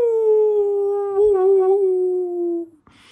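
A wolf howls near a gas station, one long, steady, drawn-out tone that wavers slightly midway and fades out after about three seconds, clear and fairly loud with little else around it.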